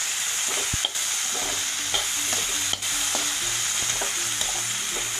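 Spices sizzle and crackle lightly in a hot pan, tempering for a Tamil fish curry, with a spoon scraping and stirring in a few soft knocks. No voices.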